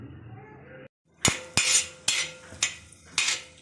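Chana dal roasting in a pan, stirred with a metal spoon that gives about six sharp, evenly spaced clinks and scrapes against the pan, close and clear after a short stretch of quieter sound.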